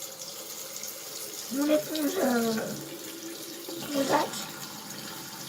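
A tap runs into a sink during face washing, a steady low stream of water with someone speaking briefly over it in two short bursts.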